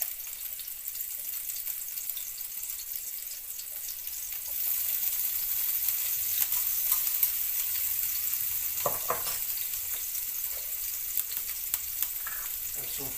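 Onion dropped into hot oil in a pan over a medium flame for a brown stew fish meal, a steady bright sizzle that swells louder partway through, with occasional stirring scrapes and no voices.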